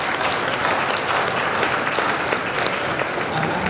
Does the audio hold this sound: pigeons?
no